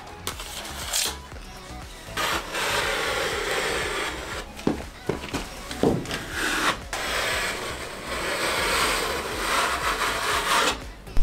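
A wide plastering spatula scrapes and smooths drywall joint compound over wall joint tape, giving repeated close, rasping strokes of varying length with short pauses and no voices.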